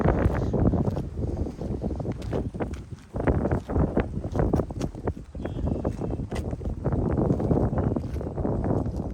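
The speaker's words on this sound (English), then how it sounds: "You can really hear the trees rustling in the wind." Gusty wind rushes and buffets outdoors, surging and dipping in loud waves with dense rustling of tree leaves, picked up through a sensitive amplified listening device turned to full volume.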